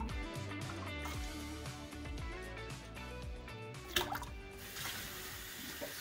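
Water running from a tap into a sink while wild venison is prepared for jerky and sausage, a continuous splashing flow with clattering and knocking of items, growing brighter and harsher near the end.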